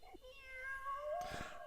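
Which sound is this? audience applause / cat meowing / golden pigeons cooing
cat meowing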